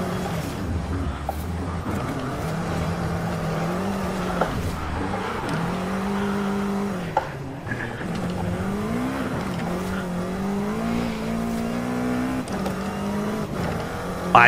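A car races in Forza Horizon 5, its engine revving and shifting pitch through repeated acceleration and braking, with tire squeal on the turns; the loud, continuous engine note rises and falls for the whole stretch, with faint talk underneath.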